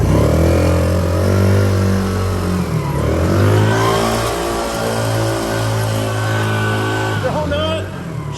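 A Polaris Outlaw 50 ATV engine doing donuts, heard as a loud, close, steady buzzing drone that rises and falls in pitch as it revs, then drops off at the end.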